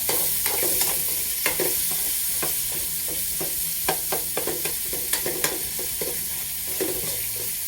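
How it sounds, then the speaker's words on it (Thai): Pork for spring roll filling sizzles steadily in a hot pan as a spatula scrapes and taps the metal in an irregular rhythm, close and fairly loud, with no voices. "ใส่หมูลงไปครับผม หมูตีลังกาเลย หมูลงไปผัดแล้ว"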